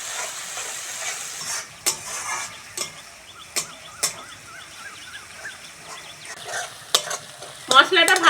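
A spice paste with chilli powder and turmeric fries for a cabbage kofta curry, hissing steadily up close while a spatula scrapes and knocks against the pan in sharp, irregular strokes.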